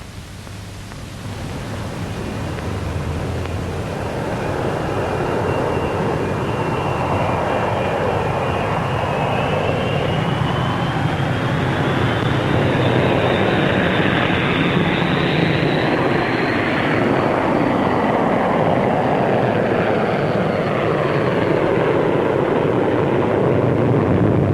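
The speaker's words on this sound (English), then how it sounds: "Here we see the first two Vulcans taking the air." Two Avro Vulcan jet bombers fly past with small experimental Avro 707s, a loud continuous roar of jet engines that rises and swells steadily with a faint whine sliding upward, sustained for the whole pass without speech.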